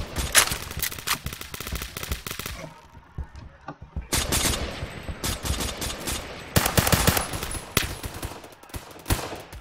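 Rapid video game gunfire shooting at people, dense bursts of automatic shots in clusters with a short lull in the middle before more volleys resume.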